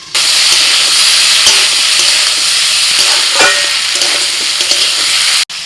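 Vegetables frying in a pan, a steady loud sizzle running throughout with occasional stirring scrapes and clinks, cutting off abruptly near the end.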